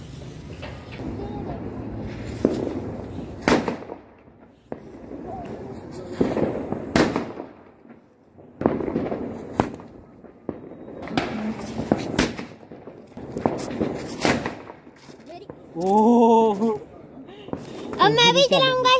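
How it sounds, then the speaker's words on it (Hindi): Firecrackers are set off outdoors during a celebration in Ayodhya. Repeated sharp bangs and crackling bursts come at irregular intervals, with children chattering and shouting throughout. "हम ना इसमें डाल के पटाखे चलाने गए"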